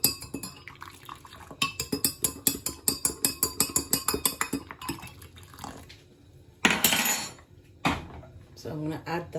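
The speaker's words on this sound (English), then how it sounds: "Just use a spoon and mix it" A metal spoon stirs sugar into water in a jug, making a run of quick, regular clinks against the sides, then scattered clatters and louder knocks of kitchenware, with a voice speaking between the sounds.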